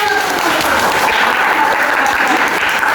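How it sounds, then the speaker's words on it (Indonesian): Students in a microteaching classroom lesson on Islamic religious education break into loud, continuous applause, many hands clapping densely for the whole stretch with faint voices underneath. "Tepuk tangan."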